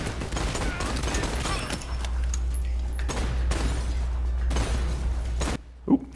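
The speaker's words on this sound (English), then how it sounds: "I love these slow-mo bullets." Slow-motion gunfire in the Spatial Ops VR shooting game on Vision Pro comes through as several muffled, drawn-out blasts spread across a steady low rumble of game sound.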